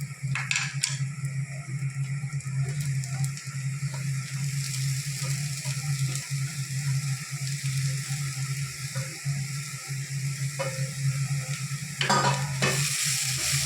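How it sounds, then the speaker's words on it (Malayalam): Beetroot sizzles and fries in a pan with softened onions, with steady crackling broken by a few scraping stirs of a spoon, close and continuous without talk. "ഇനി നമുക്ക് ഇതിലേക്ക് ബീറ്റ്റൂട്ട് ഇടാം."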